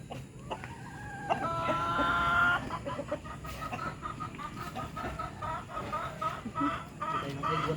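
Rhode Island Red chickens cluck and call close by at feeding time, a busy overlapping flock with brief higher squawks scattered through.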